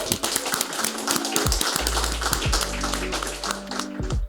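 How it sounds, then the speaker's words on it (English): Studio audience clapping for a guest at an interview, a steady run of dense, fairly loud hand claps sustained for several seconds under a low hum. "I think he deserves a clap"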